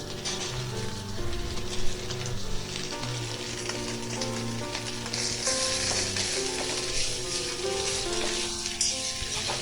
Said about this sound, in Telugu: ఆయిల్ మరిగిన తర్వాత బీట్ చేసిన ఎగ్ని వేయాలి